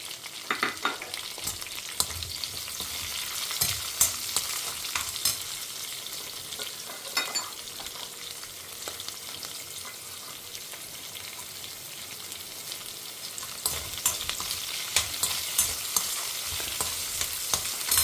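Onions sautéing in a pan for a Tamil home-style curry, a steady crackling sizzle with repeated spoon scrapes and stirring knocks throughout, close and clear with no talk.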